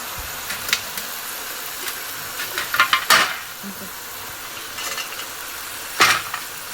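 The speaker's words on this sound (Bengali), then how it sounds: "জোর দিয়ে এবার ঢেকে ঢেকে ভেজে নেব ভাজতে ভাজতে এবার একটু আদা দেবো এর মধ্যে" Mixed winter vegetables with ginger frying in a covered pan, giving a low steady sizzle broken by scattered metallic clinks and scrapes of stirring, including one sharp louder clatter midway and another near the end.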